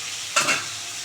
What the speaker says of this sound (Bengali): মাছটা একটু ভালো করে কড়া করে ভেজে নেবো